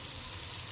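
Crushed ginger and garlic frying in a pan for country chicken curry, a brief steady hiss of sizzling oil, close and even.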